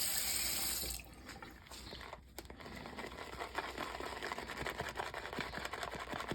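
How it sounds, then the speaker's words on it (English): A shaving brush is soaked under running water, a steady close hiss of a tap that shifts and softens after a second into a busier splashing and trickling sound. "Soak my brush real quick."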